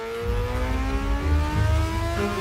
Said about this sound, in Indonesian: Ada motor sport nyelonong.